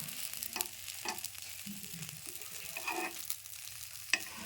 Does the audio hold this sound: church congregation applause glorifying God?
no